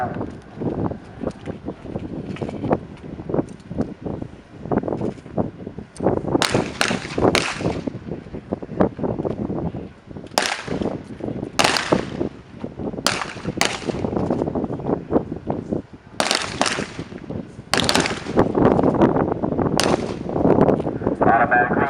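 Pistol gunfire on an Army qualification range at Fort Sill, with many sharp shots from several shooters in irregular bursts amid wind noise on the microphone and occasional background voices.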